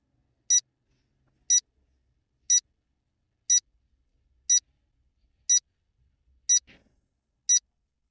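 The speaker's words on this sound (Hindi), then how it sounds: "आप कहें तो मैं आपके लिए टाइमर लगा सकता हूँ" A countdown timer marks a 10-second count with eight crisp, identical high beeps spaced exactly one second apart over near silence, with a faint low knock between the last two.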